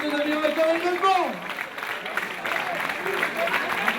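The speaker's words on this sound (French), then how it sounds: "Merci pour vos applaudissements." Applause from the audience at an OFAC 2013 awards ceremony follows a Sprint Girl division podium announcement, a steady wash of clapping rising as a voice over the microphone fades out.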